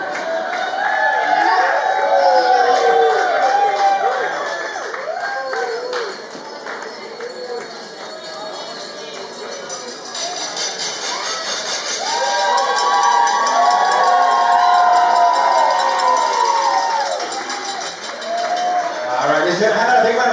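A wedding crowd cheers and claps loudly for the newlyweds, Mr. and Mrs. Golinski, with whoops and shouts swelling, dipping briefly, then rising again over a long stretch.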